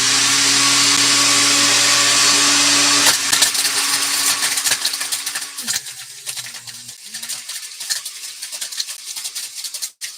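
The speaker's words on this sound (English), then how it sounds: "Starting up the blender." Blender running as it blends a model: a loud whirring motor drone for about three seconds, then rough grinding and rattling that rises and falls before ending in a clunk.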